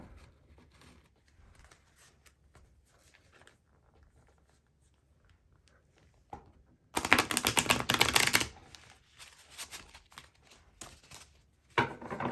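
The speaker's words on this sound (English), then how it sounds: "I'm going to go ahead and shuffle these cards." Quiet shuffling and tapping gives way to a brief loud riffle of tarot cards being shuffled, then soft handling noises and another short burst.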